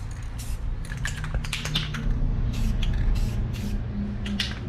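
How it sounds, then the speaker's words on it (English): Rustoleum acrylic lacquer gloss clear coat hisses from an aerosol can in several short bursts of misting spray over a headlight, close by, with a low background rumble underneath. "gonna go ahead and spray down here and make sure that my tip isn't clogged up."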